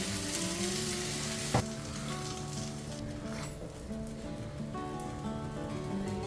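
Eggs fry in a pan over low to medium heat for an egg paratha, a steady close sizzle running throughout with one sharp utensil tap early on.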